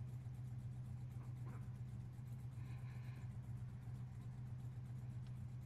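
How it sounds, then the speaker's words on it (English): Race cars from the NASCAR Legends game at Daytona International Speedway hum steadily at a low, constant pitch, a distant engine drone with no talking. "Okay, I can already hear the cars."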